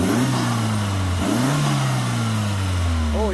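A 240bhp sleeper car with oil and coolant leaks idles steadily, its low, even engine hum holding close and constant throughout.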